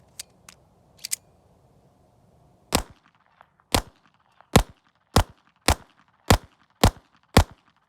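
A new 2024 Walther PPK pistol in .32 ACP fires about eight loud, sharp shots outdoors on dirt ground at a steady, unhurried pace, preceded by a few faint metallic clicks and handling sounds.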